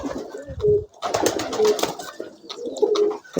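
A pigeon coos softly several times in a row while eating corn, close by, with brief gaps between the calls.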